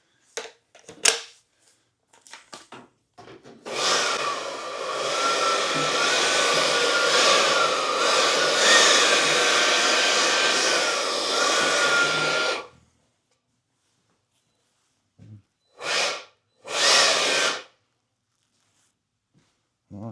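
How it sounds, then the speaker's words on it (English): A battery-powered blower runs in one steady, loud blast for about eight seconds, clearing sawdust off a wooden coffee table. Scattered clicks come before it and two short bursts follow. "I'll grab a smaller one, a blower. We'll just blow off the inside of that."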